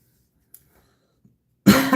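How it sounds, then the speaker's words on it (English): A single harsh cough bursts out suddenly after near silence, close and loud, with a few faint rustles before it. "now I got this cough again that just comes and goes"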